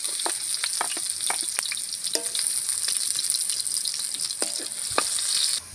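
Onion goes into a pan of browned garlic and fries with a steady close sizzle, broken by occasional clinks and scrapes of stirring.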